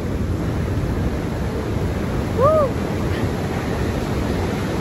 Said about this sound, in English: We are down at the beach now and the sand is nice and cool because it's a bit of a hot day, but look how big the waves are